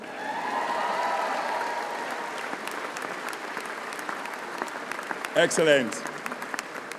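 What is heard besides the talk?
audience applause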